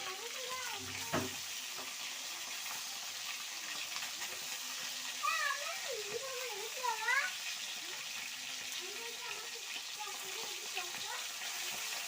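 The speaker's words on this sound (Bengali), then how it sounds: "দেখো মাছগুলো ভেজে নিচ্ছি উল্টে পাল্টে" Pieces of rohu fish fry in a pan and are turned over, giving a steady low sizzling hiss. A cat meows several times over it, and there is an occasional soft knock.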